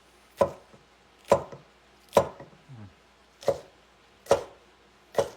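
Jalapenos being chopped with an ulu knife on a cutting board: six sharp, evenly spaced thuds about a second apart, close and clear in a quiet kitchen.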